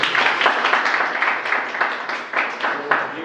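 Audience clapping after a speech at an in-house teacher training session on classroom management, a steady dense patter of many hands filling the room for several seconds.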